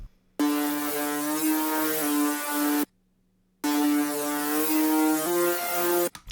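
Gritty, harmonically rich synth lead patch from an Acid 2 kit holds long buzzing notes in a simple phrase, dropping out for a short gap midway before repeating; loud and alone, with no talking.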